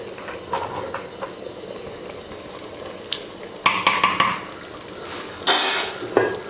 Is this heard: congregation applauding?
no